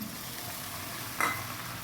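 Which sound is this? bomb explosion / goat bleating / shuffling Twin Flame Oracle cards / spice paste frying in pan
spice paste frying in pan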